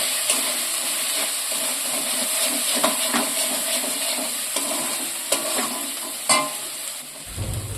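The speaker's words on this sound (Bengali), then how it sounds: "আমি সব মশলাগুলো এর মধ্যে তুলে দিচ্ছি দিয়ে আবারও আমি ফের মশলাটাকে কষিয়ে নেবো" Spices stir-fried in a pan for a potato and flour dish, a steady close sizzle and hiss with scraping stirs and small pops throughout, no talk.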